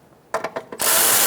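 Ratchet tightening one of two bolts holding the windshield washer reservoir on a 2014-2019 Kia Soul: four quick close clicks, then a sustained bright grinding rasp as the bolt is run down.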